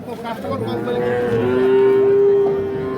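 A young bull lets out a long, loud moo over a murmuring crowd at a busy livestock market.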